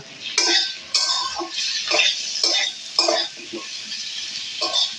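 A spatula scrapes and clinks repeatedly against a pan while cabbage curry with potatoes and Kashmiri chilli powder is stirred, giving a steady series of close, sharp strokes over a faint sizzle.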